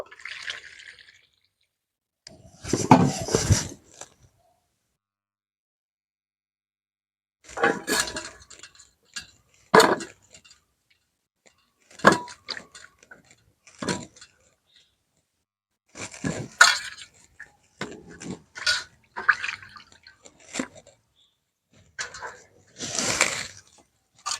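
Green tomatoes are washed in water in a bowl, giving intermittent bursts of splashing, dripping and light clinks against the container, separated by quiet pauses, close up with no talking.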